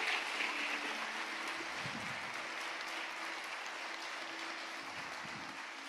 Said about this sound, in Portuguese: quem pode aplaudir a Deus em nome de Jesus?